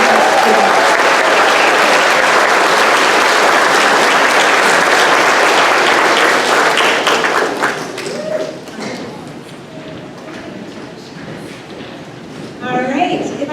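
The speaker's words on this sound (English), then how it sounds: "And if we could get a round of applause," Audience applause at a 5th grade elementary school graduation ceremony, loud sustained clapping from a crowd that fades to scattered claps and murmuring voices after about eight seconds, with a brief burst of sound near the end.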